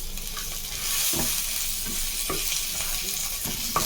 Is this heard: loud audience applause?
no